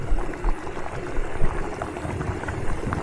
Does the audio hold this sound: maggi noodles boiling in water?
yes